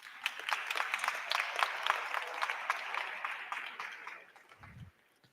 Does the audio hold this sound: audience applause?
yes